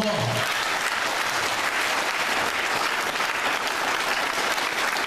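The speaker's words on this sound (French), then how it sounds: "Applaudis mon Dieu" A church congregation applauds during an evangelist's sermon, dense continuous clapping filling the whole stretch evenly and loudly, with a brief voice at the very start.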